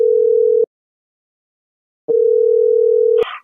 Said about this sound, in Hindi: ये बाई फोन क्यों नहीं उठा रहे?